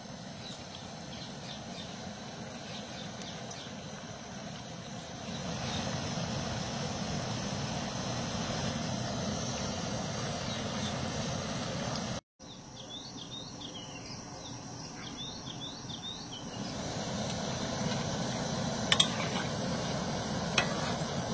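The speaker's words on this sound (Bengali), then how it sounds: "এবার আমি মিষ্টিগুলো ছেড়ে দিচ্ছি। আর সবগুলো মিষ্টি কিন্তু আমি একবারে ভাজবো না, অল্প অল্প করে ভাজবো।" Semolina kalojam sweets being dropped into hot oil and fried a few at a time: a continuous crackling sizzle that swells partway through, with faint bird chirps in the background and no talking.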